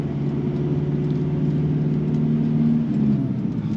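A Toyota Hilux Revo pickup engine running close by under throttle, holding a loud, steady, throbbing drone with a slight rise and dip near the end, with no voices.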